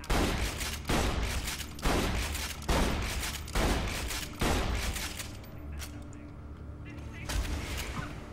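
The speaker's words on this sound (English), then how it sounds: "Fire a few shots out of it." Gunfire from a weapon in the video game Borderlands 2, a rapid series of loud, evenly spaced shots about one per second that then stops, leaving quieter game sound.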